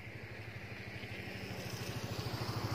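A motorcycle engine runs through flood water during a storm, putting out a low, steady putter close by that grows slightly louder and more rhythmic toward the end. No voices are heard over it.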